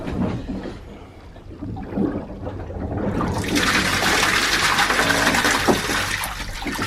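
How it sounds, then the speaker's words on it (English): Seawater gushes in through a boat's thru-hull fitting as the bung is pulled with the vessel afloat, a steady broadband rushing that starts after a low rumble and grows loud and constant to the end. "He's gonna remove the bung, and a lot of water is gonna come out."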